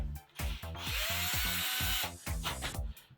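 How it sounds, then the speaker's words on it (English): A power drill bores into part of an Absima Shepra CR3.4 standard shock in steady close bursts, the motor whirring loudly with brief pauses between, no talking. "that's all drilled out nicely. Just get that bit on the edge there."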